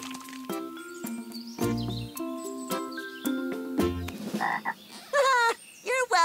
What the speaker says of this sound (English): Those froggies say they're thirsty.